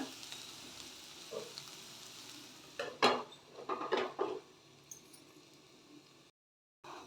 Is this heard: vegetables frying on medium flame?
yes